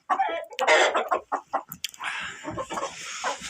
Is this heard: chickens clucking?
yes